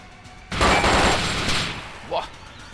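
A sudden loud burst of gunfire in the video game DayZ, a dense volley lasting about a second before tailing off, with a brief later sound and players talking around it.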